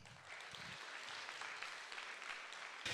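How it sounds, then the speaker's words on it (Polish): Faint, distant applause from an audience at an awards gala, a continuous even patter of clapping for about three seconds with no talk. "Ogromne brawa dla wszystkich Państwa."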